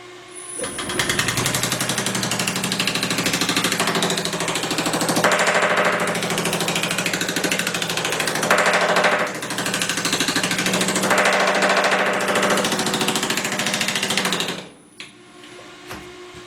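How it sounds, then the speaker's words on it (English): A power hammer fitted with shrinking dies pounds on sheet metal in a loud, rapid, continuous hammering for about fourteen seconds, changing slightly as the metal is moved, then stops, leaving a quiet mechanical hum. "But let me turn the machine on, and we'll get to shrinking."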